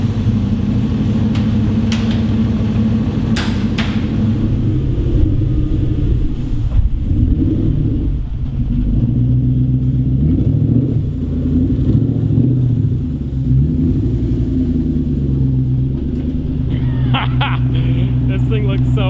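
A V8 drift truck engine idles and blips loudly with its muffler section removed, a deep continuous rumble close by with people talking over it.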